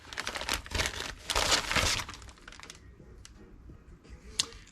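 A cardboard shipping package holding a Weller soldering iron is cut and torn open close by, with crinkling, crackling and snapping bursts loudest early, then quieter rustling with one sharp crack near the end.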